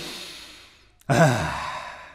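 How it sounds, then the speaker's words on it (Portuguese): A deep breath drawn in as part of a vocal warm-up exercise, a single close, loud airy inhale that swells suddenly after a quieter breathy lead-in and then trails off slowly. "Primeiro, braços para cima, respiração profunda e inspirem."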